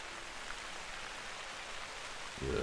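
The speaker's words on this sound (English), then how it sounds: "It's loud rain." Steady, loud rain in the hunting game theHunter: Call of the Wild, a dense even hiss that stays level throughout and thickens with a deeper rumble in the last moments.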